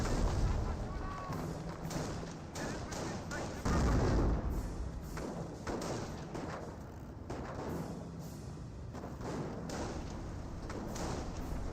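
Tank battle in Company of Heroes with scattered heavy cannon booms and thuds amid a constant battlefield rumble, fairly quiet overall, with a commentator talking over much of it.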